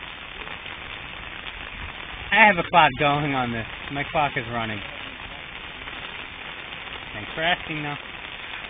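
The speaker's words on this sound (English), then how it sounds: "Totally raining." Steady rain falls outdoors as a soft, continuous hiss beneath a person talking close by.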